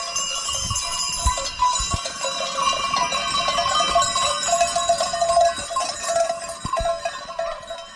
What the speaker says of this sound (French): je suis avec les chèvres. Je fais le berger.